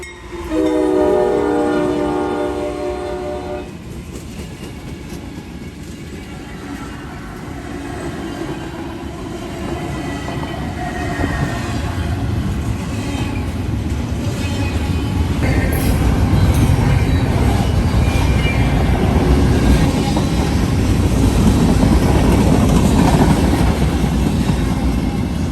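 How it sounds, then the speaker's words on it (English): A CSX freight train led by two CSX-8s, two flared SD70 Maxes and two ET44ACs around a UP Gevo sounds a long, loud horn, then its engines and wagons rumble past, growing heavier and louder. "It was considered a lash-up of the year in 2022, with 2 CSX-8s, 2 SD70 flared Max, and 2 ET44 ACs sandwiching a UP Gevo"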